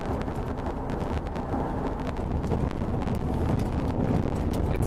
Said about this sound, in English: but it's very, very, very windy.